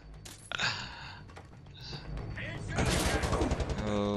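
Electric weapon fire from a heavy duty Tesla gun in Wolfenstein The New Order, crackling bursts mixed with gunfire that grow louder and denser toward the end, with a voice speaking briefly over it.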